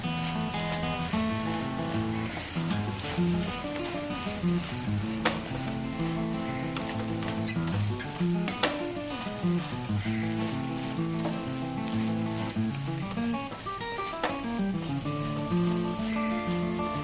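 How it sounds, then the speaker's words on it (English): Fried potatoes are stirred into a cocktail sausage and salami chili fry, giving a continuous, even sizzle of frying with soft stirring, and music plays throughout. "We have to add all these potatoes now to the chili fry and give this a mix."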